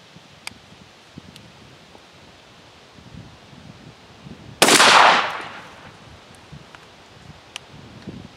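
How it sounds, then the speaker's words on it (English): A single loud shotgun blast from a Weatherby SA-08 semi-automatic fired downrange outdoors, a sharp report that rolls off over about a second amid light wind and rustling, with quiet before and after. "gun's loaded, take the safety off, and we'll try shot down range"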